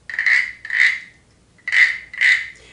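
A small grasshopper-shaped sound effect toy gives four raspy, scraping chirps in two pairs, each lasting about half a second, close and clear with silence between them and no voices.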